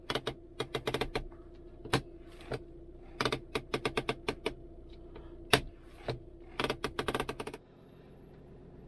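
Parking brake on a VW Jetta MK6 being adjusted and clicking in, a series of sharp close ratcheting clicks in bursts and clusters, then a sudden quiet stretch at the end.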